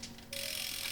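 A bicycle rear-wheel freewheel clicks while being pedaled, giving a brief, close ratcheting buzz that quickly becomes a rapid continuous whir.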